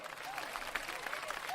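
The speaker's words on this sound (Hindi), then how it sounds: "तालियां" An audience at a comedy poetry show applauds as the next poet is called up, producing a soft, even patter of clapping that stays faint and steady throughout.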